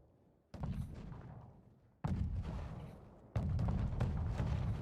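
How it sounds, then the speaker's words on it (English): Ballista artillery fires in a strategy video game, giving three sharp, heavy shots with booming low thuds, each one decaying briefly before the next and growing louder through the sequence. "Ballista is one of the better artillery pieces to kill units with, as it almost guarantee one-shots anything it hits."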